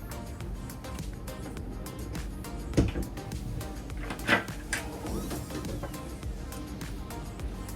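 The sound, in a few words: drawers opening and closing under bed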